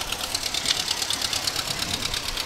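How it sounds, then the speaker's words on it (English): A tractor in a small-town parade chugs slowly past, its steady engine knock running continuously under busy street noise. "A fun tractor."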